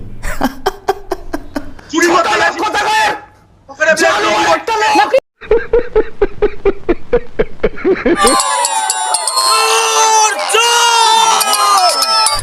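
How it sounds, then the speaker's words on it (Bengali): A political crowd chants an accusatory 'thief' slogan at Debangshu, loud massed voices in rhythmic bursts with shouting and cheering, a brief drop midway before a dense, sustained roar of voices. "আমাদের এই দেবাংশুকে দেখে চোর চোর স্লোগান দিচ্ছে"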